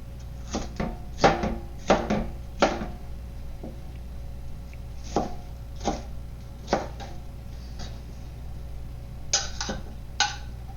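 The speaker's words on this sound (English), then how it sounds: "Then I'll cut it into thick slices. And then I'll cut those slices into chunks." A knife cuts chicken into chunks on a cutting board, giving close, irregular sharp taps in short bursts separated by pauses, over a low steady background hum.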